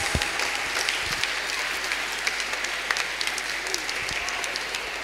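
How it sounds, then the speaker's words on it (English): School annual-day audience giving a loud, sustained round of applause in a large hall, dense clapping continuing steadily with a few sharper claps standing out. "A thundering applause"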